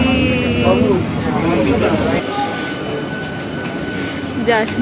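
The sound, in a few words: train departing a station toward Howrah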